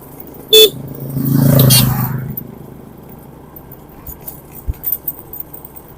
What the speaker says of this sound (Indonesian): Konvoi motor kadang jalannya memborong jalan di tikungan.